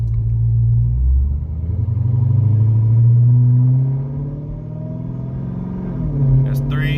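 A car accelerating in track mode, its transmission shifting through the gears, with a deep engine rumble that rises and falls close by; a brief higher whine near the end.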